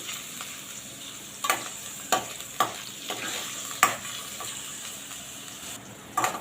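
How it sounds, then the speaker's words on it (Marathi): Paneer cubes frying in oil in a pan, a steady sizzle with a few sharp crackles and spatters rising at intervals, close and moderately loud, with no voices. "अशा प्रकारे आपल्याला पनीरसुद्धा इथे छान तळून घेऊ"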